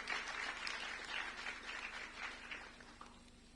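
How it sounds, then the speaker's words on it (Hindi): An audience at a district political debate forum applauds, a faint, steady wash of clapping lasting a few seconds, heard from a distance without talking. "चाहूंगा जोरदार तालियां"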